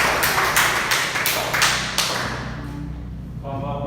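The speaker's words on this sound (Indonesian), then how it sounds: "Tepuk tangan dong." A small classroom audience claps hands after a dance performance presentation, a handful of distinct, evenly spaced claps that fade out, with faint voices underneath.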